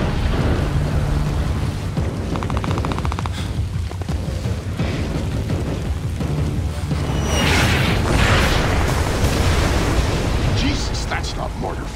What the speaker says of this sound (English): that's not mortar fire. Sounded like Katushas.